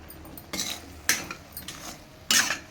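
Metal spoon scraping and clinking against a pan while stirring sabudana upma, with three distinct louder scrapes and softer strokes between, close and alone.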